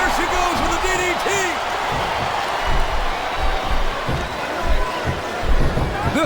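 A female wrestler slams into the ring mat from a DDT during a professional wrestling match, several dull thuds landing under a loud, steady roar from a capacity arena crowd.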